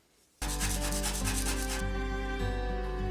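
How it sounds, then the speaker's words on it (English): Coarse sandpaper rubs steadily against a wooden dowel rod, a continuous close and loud gritty rasp that starts abruptly after a brief quiet moment and carries on without pause or talk. "find yourself some coarse sandpaper, and we are going to sand our dowel rod a little bit"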